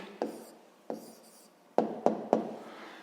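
A pen or pencil writes an answer to a sixth-grade maths exercise by hand, making five short, close scratching strokes with brief gaps between them.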